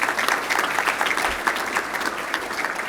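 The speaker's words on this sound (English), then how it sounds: "give yourselves a round of applause" Recently graduated accounting students and their audience applaud themselves at a career talk, giving a steady, moderately loud wash of many hands clapping throughout, with no voices standing out.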